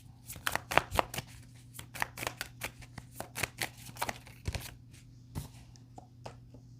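Tarot cards are shuffled and drawn close by in a quick, irregular run of crisp riffling snaps and slaps over a steady low hum, with no talking.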